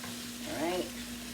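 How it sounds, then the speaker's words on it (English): Fresh garlic hits hot oil in a pan with a soft, steady sizzle, quiet and close, with a brief stirring scrape in the middle. "I'm going to put the fresh garlic in now, let that cook up a few minutes."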